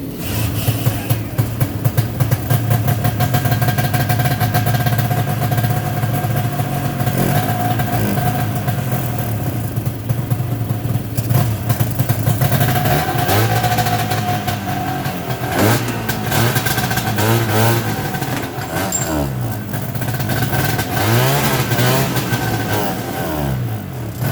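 A 1972 Ski-Doo TNT snowmobile engine runs steadily and loud up close for the whole stretch, a raspy two-stroke drone with repeated revving swells and no talk.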